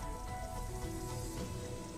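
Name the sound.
heavy rain falling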